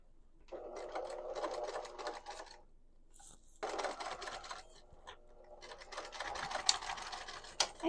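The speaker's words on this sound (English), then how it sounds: "so just go slow and kind of push things down as they get close to the presser foot" A domestic sewing machine stitching fabric for a witch hat, running close in three bursts of rapid, steady mechanical whirring with brief pauses between them.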